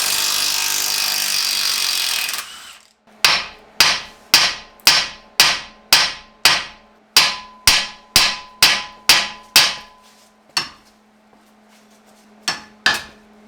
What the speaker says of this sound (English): When in doubt, hammer it out.